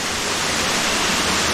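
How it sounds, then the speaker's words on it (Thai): Tat waterfall in a forest, a loud steady broadband rush of falling water that fills the scene without pause, close and unbroken. "ในที่สุดเขาก็มาถึงที่น้ำตกตาด"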